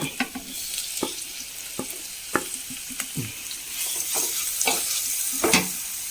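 Oil sizzles steadily as tomatoes fry in a pan over green chillies while a utensil scrapes and stirs in irregular clicks and knocks, close by with no talking.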